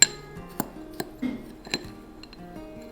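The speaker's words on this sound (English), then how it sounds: "we're just gonna use a fork because that makes it the easiest. And we are just gonna mix this up" A metal fork clinks and taps against a glass bowl while stirring a dry spice mix, sounding as a few sharp, bright pings spaced irregularly and close by, with faint scraping in between and no speech.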